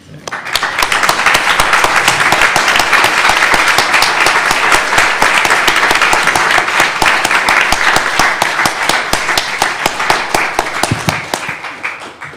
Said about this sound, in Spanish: no dejen de aplaudir